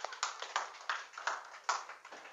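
Church congregation clapping after a Korean sermon, a faint, sparse series of separate claps in an uneven rhythm, heard from a distance with no talk over it.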